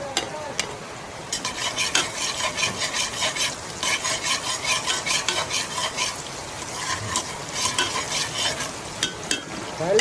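Onions stirred in a hot pan for balbacua, a busy sizzle with repeated scraping of a spatula against the pan, close and steady throughout.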